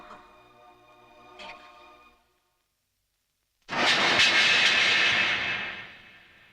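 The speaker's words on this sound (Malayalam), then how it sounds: "ലേഹയുടെ ഫ്ലൈറ്റ് ഇപ്പൊ പോയി കാണും." Airplane engine roaring after an abrupt silence, a loud and steady rumble that continues to the end, with fainter tonal sound before the gap.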